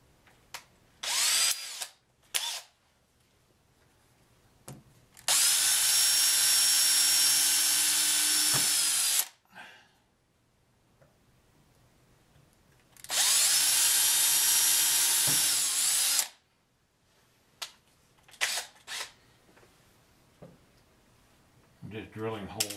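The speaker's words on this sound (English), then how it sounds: "Drilling holes for the screws right now, and got to change out my drill bit" Power drill boring screw holes, with two long sustained bursts of high whine plus several short triggers and pauses between them, close and loud.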